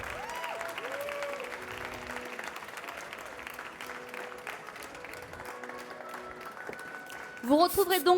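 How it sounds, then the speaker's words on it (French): An audience claps at a barista competition in France, warm steady applause running throughout under background voices, with a louder burst near the end. "On applaudit bien fort."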